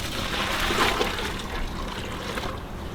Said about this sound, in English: and put in some more hot water.